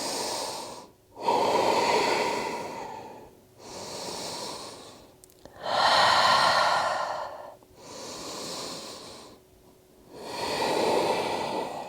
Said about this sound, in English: Holding here for 3 rounds of breath.